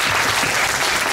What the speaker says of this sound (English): another round of applause for our speakers first